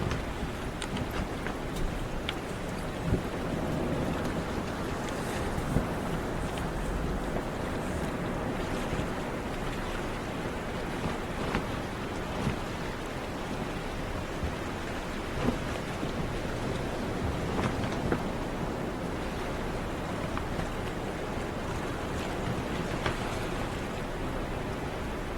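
A sailboat moving well under sail: continuous rushing water and wind noise, dense and unbroken throughout, with occasional small splashes and no talking.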